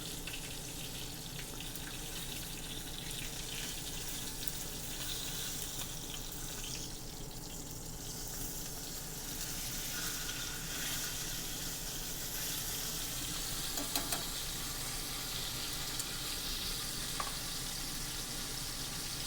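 Prime ribeye steak searing in a stainless steel pan, a steady, even sizzle and hiss that carries on without pause, with a few faint clicks late on and no talking.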